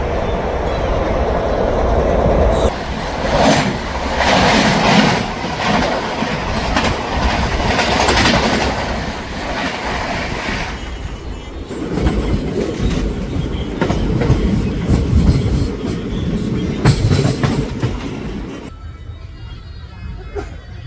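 Passenger train 54551 from Ambala Cantt toward Bathinda runs at around 105 km/h, heard from inside as a loud, continuous rumble with rhythmic clickety-clack wheel beats and occasional squeal, shifting in intensity over twenty seconds.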